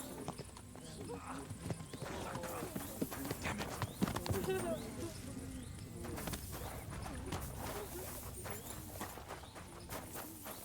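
Steady clip-clop of horse hooves at a walking pace, with occasional snorts, mixed with Kingdom Come: Deliverance 2 game background sounds and a voice talking over it.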